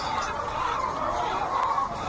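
Chickens cluck and murmur continuously in a dense flock on a farm, a steady busy chatter with no talking over it.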